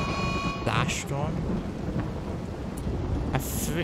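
A freak localized flash storm in the colony-building video game Rimworld gives a constant roar of rain and rumbling thunder, with a few brief tonal game effects near the start.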